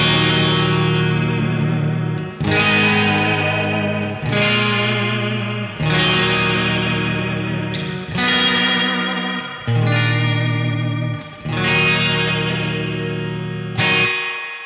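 An electric guitar through a Boss Katana Artist MKII head with spring reverb maxed plays a series of loud, sustained chords, each ringing out with a washy, splashy tail before the next strum, no talking.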